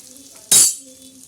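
Spices and curry leaves dropped into a sizzling tempering for a sweet-spicy dish with jaggery, sugar, cumin and chilli powder: a single sudden loud sizzling burst with a clink, fading over half a second, with a faint steady hum around it.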